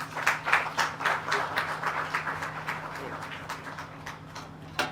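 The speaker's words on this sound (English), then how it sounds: "Please give him another round of applause." Audience applause at the grand opening ceremony of the Deeds and Commercial Registries Authority in Essequibo, a steady patter of clapping at moderate distance that slowly thins over a few seconds, with a brief final burst.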